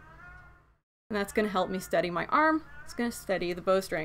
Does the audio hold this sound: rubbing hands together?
no